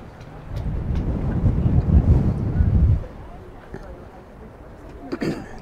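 Wind buffeting the microphone on the Lake Superior shore, a loud rumbling gust for about three seconds that dies away, then lighter, brief gusts.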